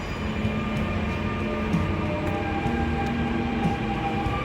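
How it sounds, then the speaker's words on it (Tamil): A Dubai Metro train rumbles along steadily with a constant low roar and faint whining tones, loud and close from inside the car. "எப்படி இருக்குது துபாய் மெட்ரோ?"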